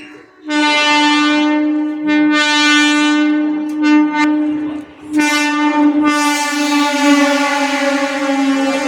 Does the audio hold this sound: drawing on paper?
no